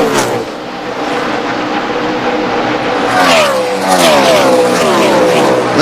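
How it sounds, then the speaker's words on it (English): NASCAR stock cars race at Chicagoland during the 2008 LifeLock.com 400, their loud engines roaring and sweeping up and down in pitch as they pass close by, continuous throughout. "Next car in line would be Jeff Gordon, that 24"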